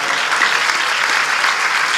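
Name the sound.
audience applause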